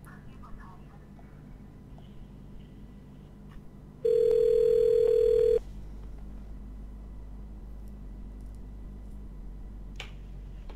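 A steady electronic phone-call tone from GTA 5 sounds for about a second and a half midway, clear and constant against a faint low background hum, with some quiet clicks before and after.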